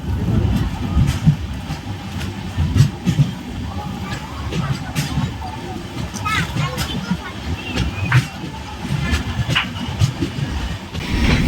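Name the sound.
Cholan Express train running on rails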